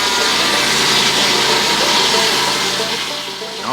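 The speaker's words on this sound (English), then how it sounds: "Starts out with a round log and trims the top of it off." A horizontal sawmill blade slices into a round log, trimming off the top to make boards; a steady, loud rasping whine of blade through wood continues throughout, easing slightly near the end.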